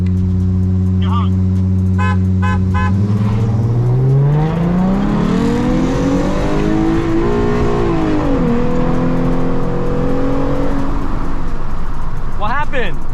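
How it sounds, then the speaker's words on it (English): During a street race, several short car horn toots sound over an Infiniti Q50's loud engine that revs and climbs in pitch, with voices talking throughout. "You want me to honk? You honk."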